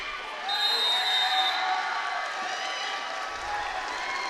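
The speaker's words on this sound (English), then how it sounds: "The cheer went up for Cameron Baird" A crowd cheers and applauds for wrestler Cameron Baird at a high school district wrestling final in an arena, a sustained moderate roar with whistles, mixed with voices.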